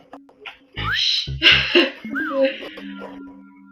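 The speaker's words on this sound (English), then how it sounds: "Thank you for the wolf whistle, random person." A wolf whistle, its rising and then falling glide repeated twice amid coughing, throat noises and nearby voices.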